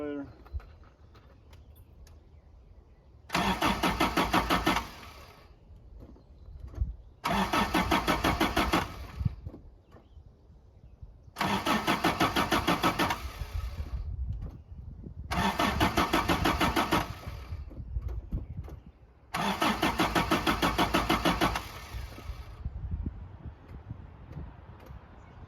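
A 1982 Toyota SR5 4x4 pickup engine cranks in five long bursts of steady starter whirring, each separated by a few seconds of quiet with faint birds in the background, loud and close.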